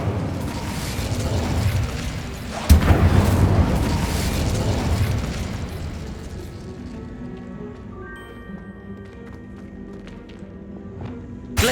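A fire spell bursts with a sudden loud boom in Hogwarts Legacy gameplay, followed by a roaring, crackling rush of flame that slowly fades over several seconds.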